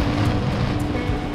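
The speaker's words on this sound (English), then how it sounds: "Getting a little bit more windy now." Steady gusty wind rushes across a harbor ahead of a tropical storm, a continuous broadband roar with faint surf-like swells and no talk.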